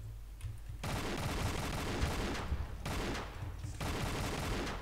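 Rapid gunfire from shotgun and other weapons in Tomb Raider: The Angel of Darkness, dense continuous bursts in a bio-research facility level, loud and near with brief gaps between volleys, no talking.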